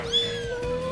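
A cat lets out a single clear, drawn-out meow, close and fairly loud, with no talk over it.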